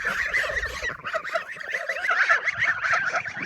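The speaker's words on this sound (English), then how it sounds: "all the geese at the moment, they're literally yelling at me" A flock of farm geese honks and cackles loudly and continuously at close range, overlapping calls coming in rapid, agitated bursts with no pauses.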